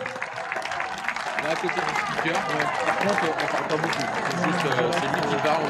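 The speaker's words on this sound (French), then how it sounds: "vous pouvez les applaudir bien fort s'il vous plaît" Audience applause at a Paris 2024 event, a dense continuous patter of many hands clapping steadily throughout, with voices mixed into the crowd noise.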